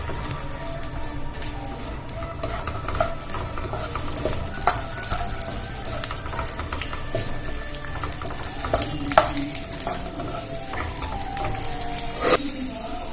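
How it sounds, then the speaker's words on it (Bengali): Cashews, raisins and other dry fruits frying in hot ghee for a vermicelli milk dessert, a steady close sizzle with scattered pops and stirring scrapes throughout, no talking. "ঘিটা গরম হয়ে গেছে, এবারে আমি ড্রাই ফ্রুটগুলো দিয়ে দেব, দিয়ে ভালো করে ভেজে নেব"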